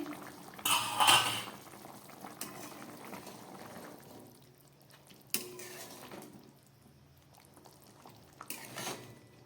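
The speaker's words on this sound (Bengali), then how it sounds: "ঢাকা খুলছি" A lid comes off a cooking pot of chicken with a bright metallic clatter, followed by quieter clinks of pot and utensil and a low background simmer. Further sharp knocks of metal come later, with no voices.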